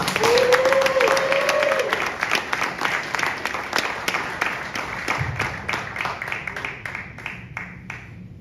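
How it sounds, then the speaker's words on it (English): A hip-hop summit audience in Chattanooga gives a guest a round of applause, dense and loud at first, then gradually thinning and fading as the clapping tapers off. "Give a nice Southern hospitality round of applause for Miss Kim Osorio"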